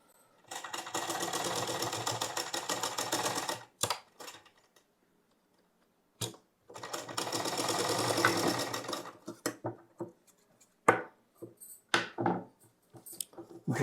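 A sewing machine stitches a side seam on a blouse in two long runs of rapid, steady whirring, each stopping abruptly, with a pause between them and a few sharp clicks and knocks afterward.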